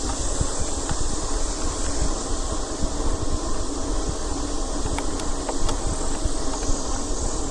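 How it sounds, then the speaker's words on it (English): Cicadas drone in a steady, continuous high-pitched buzz outdoors during a bike ride, with constant rumble and wind noise underneath throughout. "There's cicadas."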